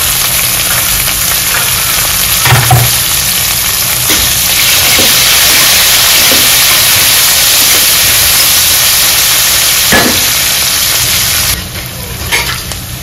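Green chillies and curry leaves sizzle loudly in hot oil, a dense, steady hiss and crackle close up, with a few sharper pops and spatters and a brief softening near the end.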